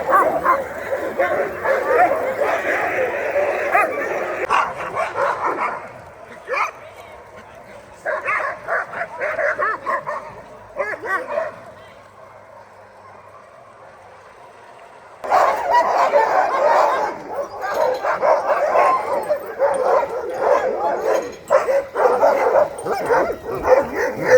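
Alaskan husky sled dogs bark and yip loudly in a rapid, overlapping chorus, with whimpers mixed in; the din dips to a near-quiet lull midway before the whole pack erupts again at full volume.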